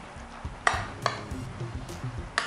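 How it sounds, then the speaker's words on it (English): Yogurt mixture being stirred in a bowl, with a few sharp utensil clinks against the side at irregular moments over soft, close scraping and low kitchen background. "And so we're just going to stir it all up"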